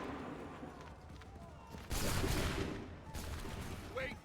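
Muskets fire a volley on command in Assassin's Creed III, a loud crackling burst of shots that is followed by a second ragged round, with voices heard faintly under the gunfire.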